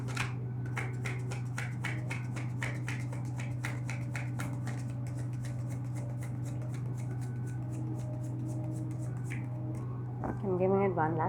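Tarot cards are shuffled by hand close up, a long run of quick, crisp riffling flutters over a steady hum, ending with a short vocal murmur.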